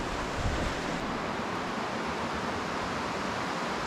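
A river by a campsite flows in a steady broadband rush of water, constant and fairly close, with some wind noise mixed in.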